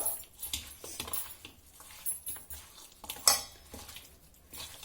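A spoon mixes raw chicken with ginger garlic paste, garam masala and salt for chicken chukka, making irregular clinks and wet scrapes against a metal vessel. The sounds are close and uneven, with no talking.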